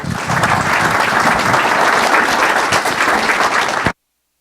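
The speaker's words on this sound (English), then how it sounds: "Let's give them a round of applause." Loud, dense applause fills a city council chamber for about four seconds at an even intensity, then cuts off abruptly to silence.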